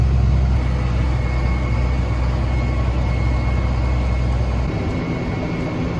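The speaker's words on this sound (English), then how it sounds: "That there's a 50-year-old tractor just putting in the work, pulling that big old silage wagon" A 50-year-old 4020 tractor working hard as it pulls a big silage wagon on a farm, its heavy engine droning loud and steady up close, with no talk over it.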